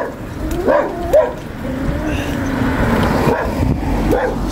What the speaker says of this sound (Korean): 짖지 마.